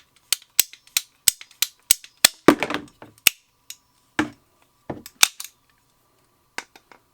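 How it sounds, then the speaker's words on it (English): A ratcheting pipe cutter works through a plastic pipe, giving a series of sharp clicks at a steady pace that thin out and grow sparse toward the end, close and alone. "this is how you cut this with a pipe cutter"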